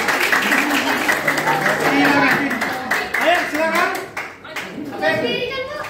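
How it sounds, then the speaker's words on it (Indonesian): A classroom of children claps for a group coming forward to present, brisk uneven hand claps close by, mixed with a teacher speaking and children's voices. "Tepuk tangan dulu, tepuk tangan."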